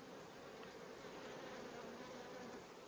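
Honey bees buzz steadily in an opened hive during autumn preparation for winter, a dense continuous hum that stays faint but unbroken throughout.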